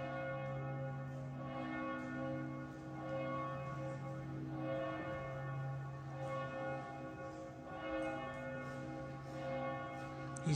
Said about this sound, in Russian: Подбой колоколов.